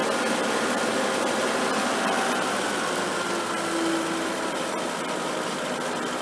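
A converted sickle mower's engine runs steadily at about 1,500 RPM, giving a continuous, even hum and vibration at moderate loudness with no talking.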